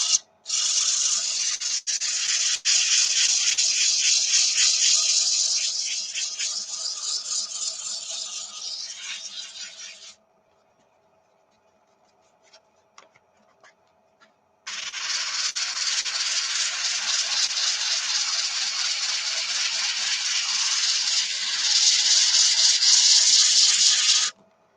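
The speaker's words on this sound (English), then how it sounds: "Sometimes the sanding sponge is a little thick, so in that case, I'll double up the paper" A mesquite wood bowl being sanded by hand with a sanding sponge and doubled sandpaper, a steady loud rubbing hiss for about ten seconds, a brief quiet pause, then another long continuous stretch of close scratchy sanding.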